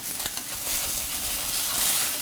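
Hamburger patties frying in a pan on a stovetop burner, a continuous close sizzle with a few faint scraping taps early on, no talking.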